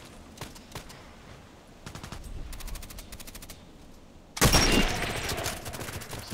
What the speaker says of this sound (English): Again the guy with the shotgun.